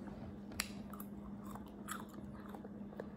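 Crunchy gummy food is chewed close to the microphone in soft, irregular bites and crunches over a faint steady hum.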